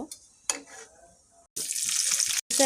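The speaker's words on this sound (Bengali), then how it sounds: "আমি ভালোভাবে মরিচগুলো ভেজে নেব" Unripe green chillies fry in oil in a pan, a close, bright sizzle bursting up after a quieter stretch of faint clatter and lasting about a second before a short pause and a brief return.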